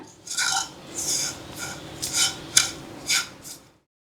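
Coriander, chili and turmeric powder being stirred in a pan for a pineapple theeyal, heard as five or six close, scraping sweeps of a utensil against the metal in a steady rhythm, with no voices.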